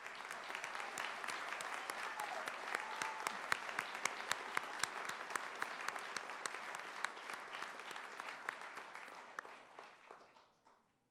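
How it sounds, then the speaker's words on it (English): Sustained applause from a large audience at an NSCC fall commencement ceremony honoring graduates, dense steady clapping that holds for about nine seconds before fading out. "Let's give our graduates one more round of applause."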